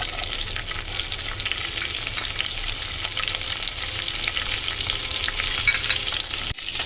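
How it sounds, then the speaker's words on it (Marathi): Cumin seeds, curry leaves and garlic fry in hot oil in a pan, a steady close sizzle crackling continuously for several seconds with light stirring and no voices, cutting off abruptly at the end. "जिरे टाकलं, कढीपत्ता टाकूया, आपण लसूण टाकूया"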